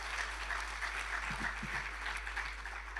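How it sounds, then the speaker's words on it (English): Faint, distant audience applause at the official launch of a Kruger National Park centre, a soft, even wash of clapping with a low steady hum beneath. "I want you to give a round of applause to all of them."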